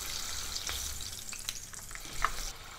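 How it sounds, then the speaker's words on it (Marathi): Steady sizzling of green chillies frying in hot oil, with scattered pops and crackles over a constant hiss. No one speaks. "मिरच्या तळल्या आहेत."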